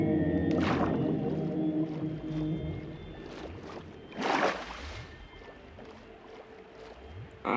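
Siren Head in a Minecraft horror mod lets out long, eerie, siren-like wails that rise and fall over low rumbling game sounds, loud and alone without speech.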